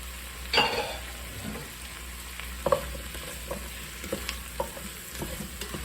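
Carrots hit a pot of softened onions and fry with a steady sizzle, broken by a few sharp clatters from stirring and the pot, with no voices.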